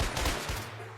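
Rapid gunfire bursts from a Minecraft game session, a quick crackling volley of shots lasting about a second, fairly quiet and dense.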